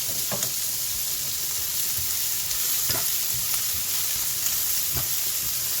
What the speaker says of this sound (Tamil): இந்த தேங்காய் பூவையும் போட்டு கிளறி எடுத்து விடுவோம்.